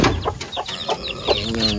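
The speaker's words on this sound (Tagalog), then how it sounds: "Yan yung sisiw, 4 lang." Baby chicks peep in quick, high, chirping calls mixed with a hen's low clucks, close by and brief, lasting under two seconds.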